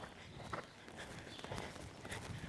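Hooves of a horse walking in a steady clip-clop during groundwork to correct shouldering, a few soft, fairly close footfalls over faint background noise.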